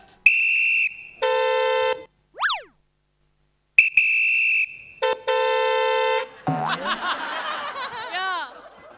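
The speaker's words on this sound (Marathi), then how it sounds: "फुक्कटचा हॉर्न" Comic horn and honk effects play in a television comedy sketch about traffic rules: several loud, separated tonal blasts with sliding whistle-like boings, followed by a burst of laughter.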